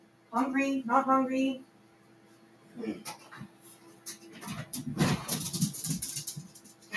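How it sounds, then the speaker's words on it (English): A pet dog whimpers and gives small yips at a distance, faint and intermittent, while someone talks briefly near the start and the dog's restless noises continue afterward. "you can probably hear my dog barking."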